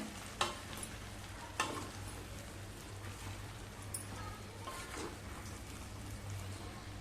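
Mixed vegetables sauté in masala for a dhaba-style veg dum biryani, a soft, faint sizzle running steadily under a low hum, broken by a few brief stirring scrapes spaced a second or more apart.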